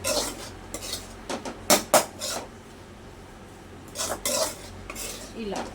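A spoon mixes egg curry with green chillies and chilli powder in a pan, giving clustered metallic scrapes and clinks in short bursts with quieter gaps between, close by and without speech.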